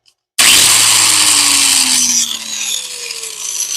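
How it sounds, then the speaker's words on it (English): An angle grinder cuts a notch into a laser-cut reluctor wheel for a Ford E4OD, starting abruptly with a loud, steady, high-pitched whine that holds for several seconds and drops slightly in pitch as the disc bites. "Turn my grinder over so the sparks fly away from it"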